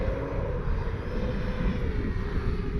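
A steady propeller hum from an E-flite Carbon-Z T-28 radio-controlled model airplane flying overhead at moderate distance, an even, continuous buzz without a break.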